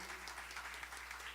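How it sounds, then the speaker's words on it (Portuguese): A church congregation claps together in a brief, dense burst of steady applause with a low hum underneath. "Vamos aplaudir o Senhor."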